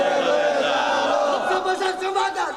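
A political rally crowd in Bangladesh roars a takbir chant, many voices shouting together in a loud sustained collective cry that swells and trails off.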